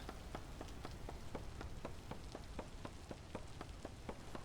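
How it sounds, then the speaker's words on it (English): Rain falling in the game Vintage Story, a soft continuous patter on surfaces with evenly spaced faint drips ticking over it, quiet and steady with no talk. "how it hasn't stopped raining"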